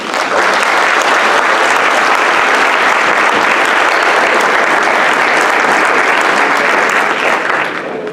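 Loud, dense applause from a conference audience at a forum on urban resilience, a close wall of clapping that holds steady for several seconds, then begins to fade at the very end.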